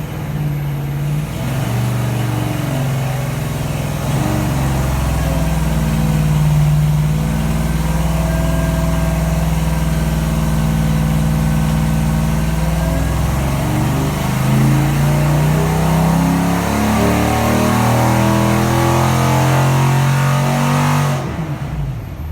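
Stock-rebuilt GM 6.0 LQ9 V8 with an LSxR intake, loud and close on a dyno, holding a sustained full-throttle pull for about twenty seconds with pitch slowly climbing before cutting off abruptly.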